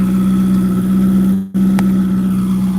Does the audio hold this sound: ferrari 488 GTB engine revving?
yes